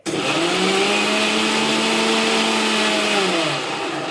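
A kitchen mixer grinder whirs loudly and steadily as it blends an ice cream mixture, its motor pitch holding nearly constant before tapering slightly near the end, with no talking over it.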